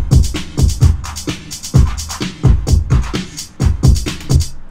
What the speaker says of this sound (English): That's the drum break, basically layered.